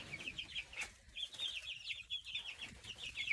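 Backyard chickens cluck and chatter near their coop in a steady stream of short, high calls, fairly close, with a few soft rustles in between.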